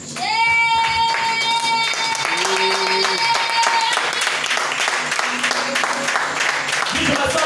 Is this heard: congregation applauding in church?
yes